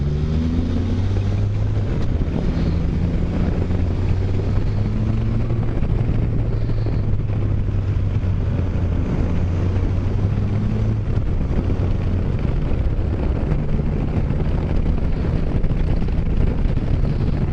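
Steady, loud wind roar buffeting a helmet microphone while riding a motorcycle in winter, with a low engine drone underneath throughout, no voices.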